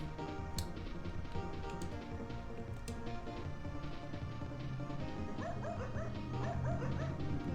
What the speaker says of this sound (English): Aw, dog sound effects.